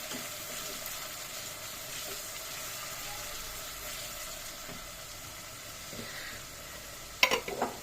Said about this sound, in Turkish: Biraz domatesini kavurayım.